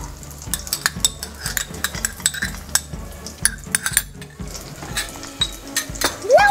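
Garlic cloves go into butter in a hot pan while cooking white sauce pasta, with a soft sizzle under repeated clinks and scrapes of a metal utensil stirring against the pan.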